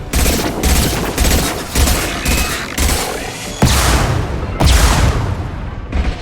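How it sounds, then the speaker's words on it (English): Sustained heavy gunfire from a firefight in the video game Mass Effect, with dense overlapping shots and loud bursts that swell several times, close and continuous throughout. "We're taking too much fire!"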